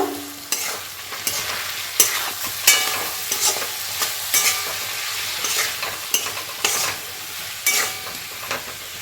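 Spices and fish head with cabbage frying in a pan, stirred with repeated scraping strokes over a steady close sizzle, with no voices.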